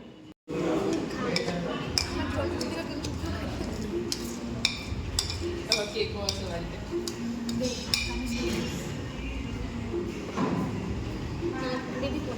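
Dishes and cutlery clink in sharp, scattered ticks while food is served at a birthday celebration meal, continuous chatter running underneath throughout.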